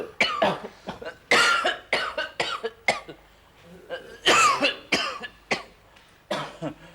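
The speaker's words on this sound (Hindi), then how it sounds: "बहुत खांसी चल रही है?" A patient at a doctor's coughs in repeated harsh bursts, close and loud, with throat clearing and short pauses between the fits.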